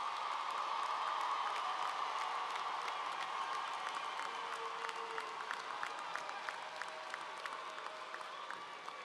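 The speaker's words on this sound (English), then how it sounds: "Please give them another round of applause." An audience at a university spring commencement ceremony applauds the graduating class, producing sustained, dense clapping from a large crowd that continues steadily throughout.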